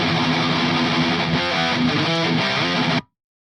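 Heavily distorted electric guitar run through an STL Tones Josh Middleton 5150 amp plugin, playing dense, chugging riffs at steady loudness for about three seconds before cutting off abruptly into silence.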